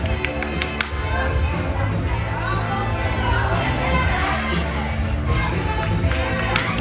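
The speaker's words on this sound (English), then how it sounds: "Cheer them on, give them 10!" A live theater audience at a touring stage show cheers and shouts continuously, a dense crowd roar with scattered claps and individual voices, urging contestants on during a timed challenge.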